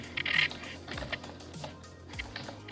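Keys on a computer keyboard clatter as an email address is typed, giving a close, uneven run of light clicks with a few louder taps.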